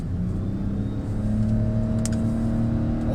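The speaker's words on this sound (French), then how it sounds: "Je te laisse accélérer d'un coup." A Lexus RX 450h hybrid SUV accelerates hard from inside the cabin, a steady smooth engine and motor drone with rising whine and road noise, fairly loud and without talk.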